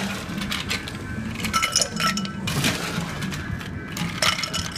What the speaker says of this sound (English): And then we can add the ice and start stirring the drink.